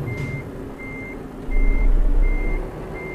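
Reversing beeps from a truck in Euro Truck Simulator 2, driving in St. Petersburg, Russia: a steady series of evenly spaced electronic beeps over a low engine rumble that swells partway through.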